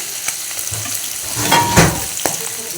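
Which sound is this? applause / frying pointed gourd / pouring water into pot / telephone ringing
frying pointed gourd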